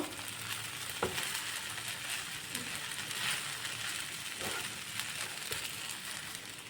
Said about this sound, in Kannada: ಉರಿನ ಕಡಿಮೆ ಇಟ್ಕೊಂಡು ಚೆನ್ನಾಗಿ ಈ ಥರ ಫ್ರೈ ಮಾಡ್ಕೋಬೇಕು ನಿಧಾನಕ್ಕೆ.